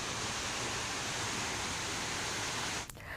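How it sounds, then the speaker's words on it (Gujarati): Rainwater rushing down hill steps at Pavagadh after a downpour, a steady, loud, broadband wash of cascading water that holds constant before dropping off abruptly near the end. "ડુંગરના પગથિયા પર કઈ રીતે પાણીનો ધોધ વહી રહ્યો છે તે આપ જોઈ શકો છો"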